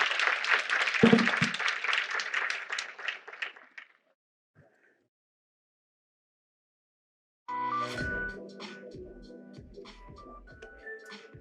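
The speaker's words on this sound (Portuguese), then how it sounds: "Uma nova salva de palmas para as 3 e muito obrigada" Audience applause at an education symposium, a dense burst of clapping lasting about four seconds and fading to silence, followed later by music with a tonal melody.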